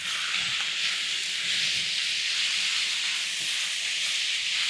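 Cube steak and ribeye sear on a Weber Slate 36-inch griddle set to high heat outdoors, a loud, even, continuous hiss that fills the whole stretch with no talking.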